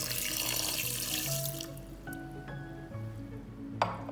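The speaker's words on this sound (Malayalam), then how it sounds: "ഇതിലേക്ക് 1 ഗ്ലാസ് വെള്ളം ഒഴിച്ച് വെക്കാം." A glass of water pours into a pan of pork being cooked for pork fry, giving a close, loud splashing rush that tapers into gurgles and drips, ending with a light clink.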